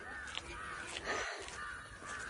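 Crows cawing outdoors, several distant, faint caws spaced irregularly over steady background noise.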